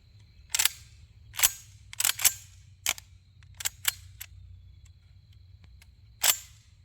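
Cheap high-brass shells snapping into a brand-new plugged shotgun bought at Walmart: a series of about eight sharp metallic clicks and clacks in irregular pairs, close and distinct over a quiet background.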